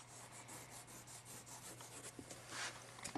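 Oil pastel rubbed into paper, a soft, steady dry scraping with faint rhythmic strokes under a low constant hum, quiet and close.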